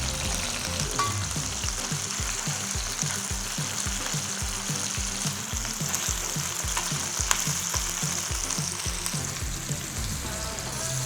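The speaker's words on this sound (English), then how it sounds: "we must fry them all around because we don't want it to soften in the sauce" Meatballs fry in a pan with a loud, steady sizzle and dense crackling that runs unbroken throughout, carrying a faint regular rhythmic thumping beneath it.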